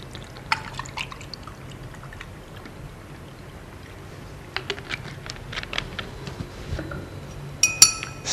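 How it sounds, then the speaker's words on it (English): Orange juice poured into a glass with vodka for a screwdriver cocktail: faint liquid trickling and dripping with a few light glass clinks, ending in brighter clinking, fairly quiet and close. "Next, we add our orange juice."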